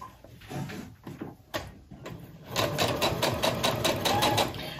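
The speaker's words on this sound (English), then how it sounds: "So I'll put my foot down and I'm going to sew along this whole edge." A sewing machine stitching quilt strips together for a rail fence quilt: a few short starts, then a steady, close mechanical whirr of rapid stitching.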